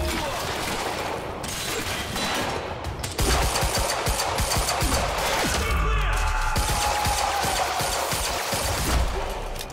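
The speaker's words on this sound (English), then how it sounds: "Open fire!" Dense automatic gunfire from the action game Quantum Break, loud and continuous throughout with sharp crashes and impacts, under shouted voices.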